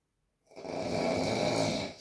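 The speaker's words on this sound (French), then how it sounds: "C'est parce qu'il mérite ce ronflement." A sleeping person snores with one long, rough, rattling breath that swells in quickly from silence and holds steady, close and fairly loud.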